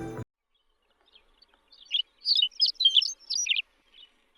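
A McCown's Longspur sings a quick series of bright, high twittering and warbling notes, clear and fairly close, following a brief thump at the start and otherwise silent surroundings.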